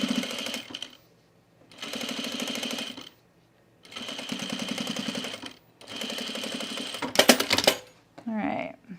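A sewing machine stitches pleats on a men's utility jacket in loud, fast bursts of whirring separated by pauses, followed by a brief clatter and a short rustle near the end.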